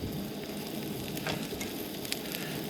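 Orange chicken frying on a camp stove burner during solo truck camping, a steady, close hiss and sizzle with crackling pops throughout.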